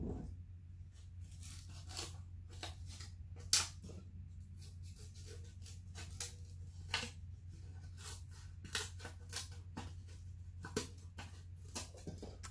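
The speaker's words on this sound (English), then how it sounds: "Sometimes it's hard to put our scissors through." Scissors snip and crunch through stiff styrofoam in irregular bursts, close and fairly quiet, with a low steady hum underneath.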